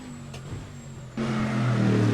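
A race car engine in Assetto Corsa, RSS Supreme 2025 mod, drones steadily with harmonic tones, then the pitch and loudness rise sharply as revs climb, loud and continuous with no voice over it.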